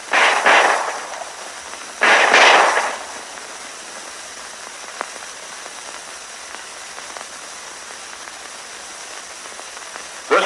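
Pistol shots in a vintage WWII training film, likely a 1911A1: two loud, close bursts of gunfire a couple of seconds apart, each with a short decay, followed by quieter crackling and hiss.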